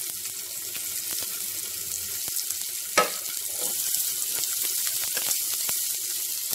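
Green chilli and onion sauté in a pan, a continuous close sizzle with occasional ticks and scrapes from stirring and one louder clatter midway.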